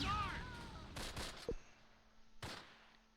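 Gunfire in the WWII game Close Combat Last Stand Arnhem, fighting at Hatert Bridge: two short clusters of loud, crackling shots a second or so apart, with a brief tone at the start and quieter battle ambience between.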